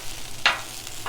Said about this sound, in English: I am going to do the Brussels sprouts on another. So, and you're just basically sauteing these up.